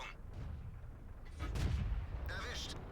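A Panther tank's cannon fires in World of Tanks, producing a single low, muffled boom midway through over a quiet rumbling background, with someone talking around it.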